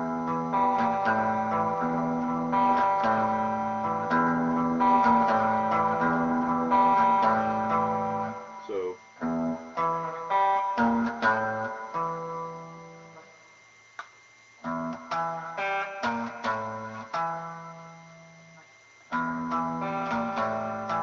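An electric guitar plays a riff during a lesson, a sustained, harmonically rich pattern of repeated picked notes with short pauses and restarts, close and fairly loud with no talking.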